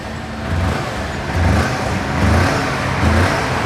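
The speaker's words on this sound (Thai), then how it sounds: "เดี๋ยวมาฟังเสียงท่อกันนะฮะ" A 2018 Kawasaki Versys 300X motorcycle with its stock exhaust is revved four times in a row, each smooth, rounded swell of engine noise rising and falling close by against a steady idle.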